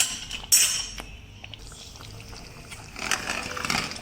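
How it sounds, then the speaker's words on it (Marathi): A little water is poured into simmering potato gravy for dum aloo, a soft splashing pour near the end after a light clink of a utensil against the pan; the sounds are faint. "थोडंसं पाणी घालेन."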